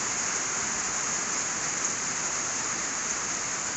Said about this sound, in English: this is the only rain we're supposed to have for at least another week